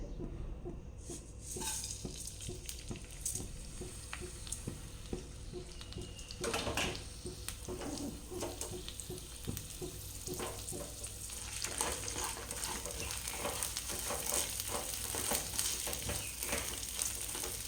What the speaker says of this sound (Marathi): सगळ्यात आधी आपल्याला पॅनमध्ये तांदूळ भाजून घ्यायचे आहे त्याच्यासाठी थोडंसं तेल मी यामध्ये घालून घेतलं